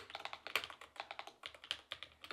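Rapid typing on a computer keyboard recorded through a budget microphone, a brisk, even stream of crisp key clicks close to the microphone with no voices.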